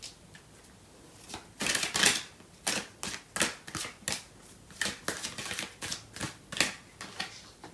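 Tarot cards are shuffled close up in crisp, riffling bursts that repeat at an irregular rhythm, each flurry of papery flicks rising and falling in a quiet room.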